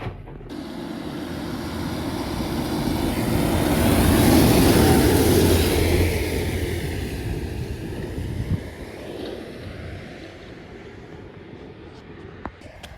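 A tractor engine runs during a manure-dumping job, giving a steady, broad rumble mixed with wind-like noise that swells briefly in the middle and then eases off, with no talking.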